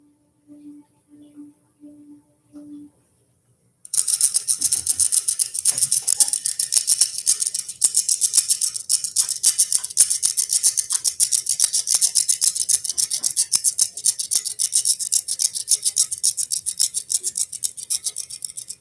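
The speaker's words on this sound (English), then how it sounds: "Etude for chopsticks and a cheese grater." Chopsticks scrape and tap across a metal cheese grater in a dense, rapid rattling rasp that runs for about fifteen seconds, after a few soft tones at the start.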